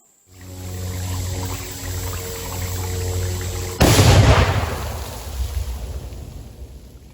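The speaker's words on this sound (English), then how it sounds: "Let's take a second and watch me blow some stuff up with the tannerite." A tannerite charge detonates against a beaver dam: a steady rushing of water gives way to a sudden loud, sharp blast, followed by a long rumbling roar of spray and churning water that slowly fades.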